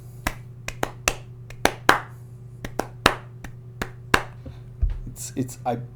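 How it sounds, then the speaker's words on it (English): Hand claps beaten out in an uneven rhythm, a dozen or so sharp close slaps with gaps between them, over a steady low hum, with a brief voice near the end. "Sometimes I just try to clap some interesting rhythm on my hands"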